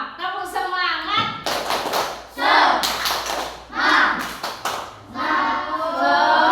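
A group claps together in a fast rhythmic pattern, mixed with children's voices shouting and chanting, loud and close in a lively room.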